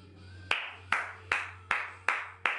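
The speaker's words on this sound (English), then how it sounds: "Clap it up for LeBron James" Six sharp, evenly spaced hand claps ring out one at a time over a faint low hum, each crisp snap followed by a brief decay.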